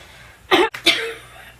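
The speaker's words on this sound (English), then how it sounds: "Really bad cough." A single harsh cough, a sharp close burst of breath followed by a rasping tail, with a fainter second burst just after, from a person with a bad cough in a quiet indoor setting.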